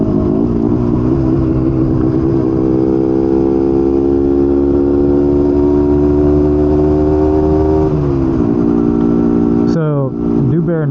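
A vintage Yamaha DT250 two-stroke motorcycle, stock and slightly out of tune with its carburetor needle needing adjustment, runs close by with a loud, steady buzzing drone that rises gently in pitch before shifting near the end.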